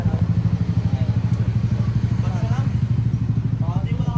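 A Honda ADV 160 scooter with an upgraded CVT runs on a test ride, its engine throbbing loud and close with a steady rapid pulse, while faint voices are heard in the background.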